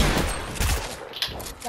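Rapid automatic gunfire sprays in a video game, a dense continuous burst of shots running loud through the whole moment with no pause.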